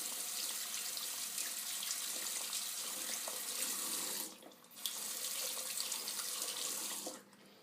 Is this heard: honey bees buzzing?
no